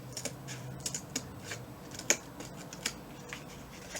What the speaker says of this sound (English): Cut just in, and then cut this little tab off.